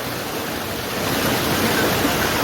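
A waterfall beside a steep hiking trail near Bucaramanga, Colombia, roars as a dense, steady rush of water, loud and close, swelling slightly toward the end with no voices over it.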